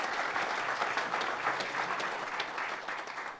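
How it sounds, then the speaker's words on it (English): A crowd applauds steadily, a dense wash of clapping that holds throughout and fades slightly at the end. "So a big round of applause for First Bank."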